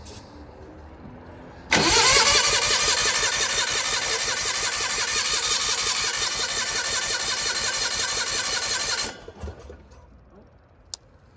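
The engine of an old skid loader cranks loudly and continuously for about seven seconds in a rapid churning rhythm without catching, then stops, leaving quiet clanks and a sharp tick.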